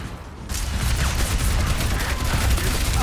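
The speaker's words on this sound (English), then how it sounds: "They're all shooting me right now." Dense bursts of gunfire from the Overwatch 2 shooter game on the Junkertown map, a continuous loud crackling barrage of overlapping shots after a brief quieter moment.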